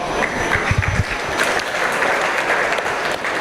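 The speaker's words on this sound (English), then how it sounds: "Let's give them a nice round of applause." An audience at a swine show applauds after a class of gilts, giving a loud, steady burst of clapping that carries on evenly for a few seconds.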